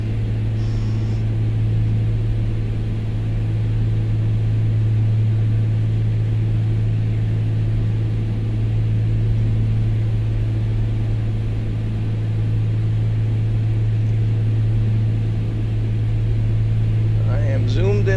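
Cessna 182 piston engine in the A2A flight simulator, a steady, loud low drone holding constant throughout, with brief radio chatter faintly on top.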